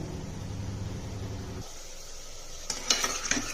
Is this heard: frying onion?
yes